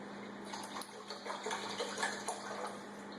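Water and chicken broth poured into a pot while making Sichuan boiled fish, a steady close splashing and trickling of liquid with a constant low hum underneath, no voices.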